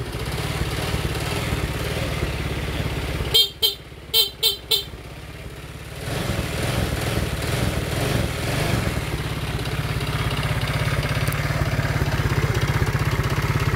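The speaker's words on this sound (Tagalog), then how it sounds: "At andar po ang ating motor." Motorcycle engine idling after a 4-pin CDI conversion, a steady close running drone with a few sharp horn beeps early on, then a slightly louder rev settling back to idle.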